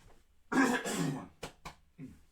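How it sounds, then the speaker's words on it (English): A throat clearing followed by a couple of short, sharp coughs, close to the listener, with a softer throaty sound trailing at the end. "I'm starting to get a bit of a cough."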